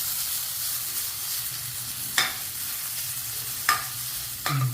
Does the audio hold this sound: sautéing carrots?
yes